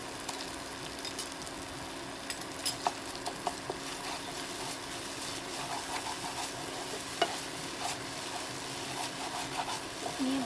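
A spice masala with sour yogurt, cooked without turmeric for a chhana kofta curry, is stirred in a pan: soft, steady scraping with scattered light clinks and faint sizzling, quiet and close, with no talk.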